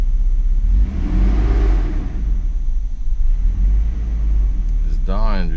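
A Mercedes engine with a failed DAS system, misfiring on only six cylinders, idles with a rough low rumble and is given some gas, ending with a brief rising rev; it sounds close and steady.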